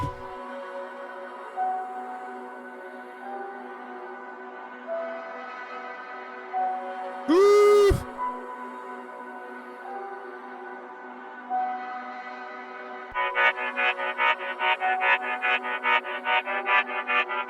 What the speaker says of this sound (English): All my pad background textures rendered out together sound like this.